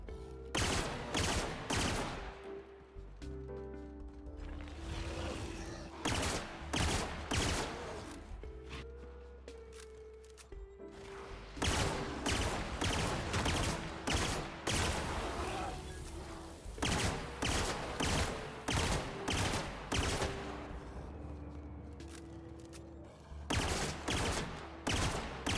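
Rapid bursts of video-game gunfire from The Outer Worlds, dense repeated volleys of shots in clusters with brief lulls between, loud and continuous across the whole stretch with no talking.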